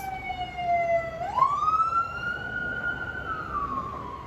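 A siren wails in the distance, its tone sliding upward and holding steady over a low background rumble of traffic.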